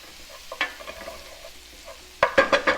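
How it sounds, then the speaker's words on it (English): Garlic stirred in a pot for a chicken pot pie, with soft scraping and light sizzling that grows into several louder stirring strokes near the end. "keep stirring it around, about 30 seconds worth"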